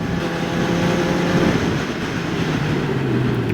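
A QJ Motor SRK 421 RR four-cylinder motorcycle engine drones loudly and steadily while riding, a dense sustained roar with slight pitch shifts and wind rush.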